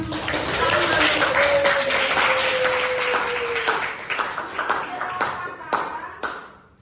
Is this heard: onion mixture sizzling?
no